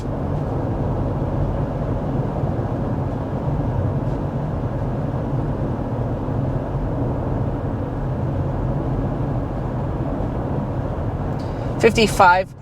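Inside a 2025 Subaru Outback cruising at 55 mph with the climate fan on speed 1: a steady low road and engine rumble fills the cabin, ending with a brief sharper sound at the very end.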